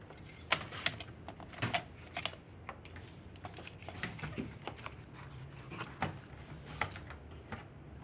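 A paper trimmer slicing scrapbooking paper into 4 by 6 pieces at a workshop, a series of close, sharp clicks and scraping strokes, irregular and spread over several seconds.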